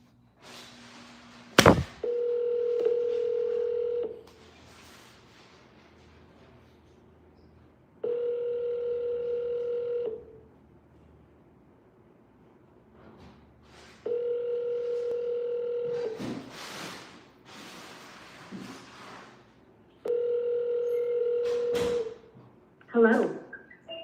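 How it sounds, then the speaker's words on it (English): A phone call placed to a for-sale-by-owner listing: a sharp click, then four evenly spaced ringback tones about two seconds long, separated by quiet gaps, ending in a brief burst of handling noise. "Dialing."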